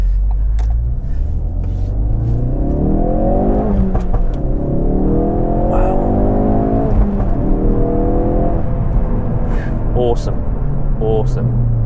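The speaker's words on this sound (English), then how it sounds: "definitely hear the additional noise from the filter where it's drawing in more air." Tuned Ford Focus RS with an aftermarket Dreamscience intake filter accelerating through the gears, engine note rising repeatedly with loud intake whoosh and rumble over steady road noise inside the car.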